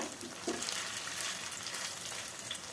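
Banana flower and lentil pakoras frying crisp in a little oil in a kadai, a steady close sizzle and crackle with small pops, no voices.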